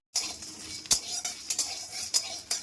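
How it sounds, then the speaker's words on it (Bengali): Whole peppercorns, garam masala, five dried red chillies, nutmeg, mace and cumin are dry-roasted in a pan, producing repeated close clinks, rattles and scrapes as they are stirred. "এগুলো আমি শুকনো খোলায় ভেজে নিচ্ছি"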